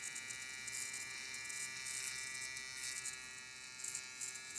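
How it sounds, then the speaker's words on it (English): Hair trimmer buzzing steadily and close during a skin fade haircut, a constant high electric whine with slight wavering as the blade moves through hair, no talking. "Trimmers that I find myself using an awful lot."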